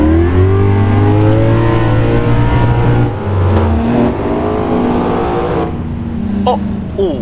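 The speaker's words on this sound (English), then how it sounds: "This V8 with 5 liters." A 5-litre V8 car engine revs loudly and close during a group highway cruise, its pitch climbing and falling through several pulls, with a passenger voice heard in between.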